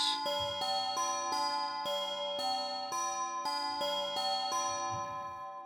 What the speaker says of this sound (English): So that's why we have some synth bells